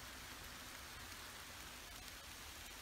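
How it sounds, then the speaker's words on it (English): Steady rain hissing and pattering across a surface on a farm, a continuous broadband wash with no voices, fairly soft and even throughout. "I don't know if you can hear that, but it's raining."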